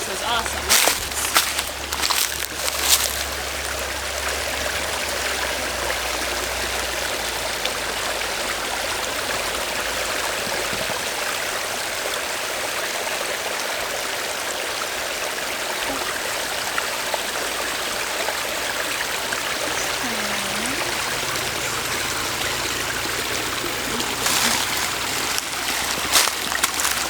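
A stream of water runs down a hillside in Western North Carolina, a continuous close rushing and splashing. Brief knocks and handling bumps sound at the start and near the end.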